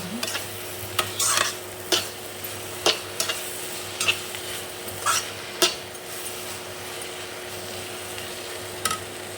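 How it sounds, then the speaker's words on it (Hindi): Spices fry in a pan for a cauliflower, pea and potato curry with softened tomato, a low sizzle broken by a dozen sharp scrapes and taps of a spoon on the pan, close and moderately loud. "टमाटर भी सॉफ्ट कर लिया, मसाले भून रहे हैं।"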